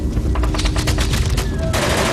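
Sustained machine gun fire from concealed positions in a World War II D-Day battle, loud rapid bursts rattling continuously and close, layered with further gunfire.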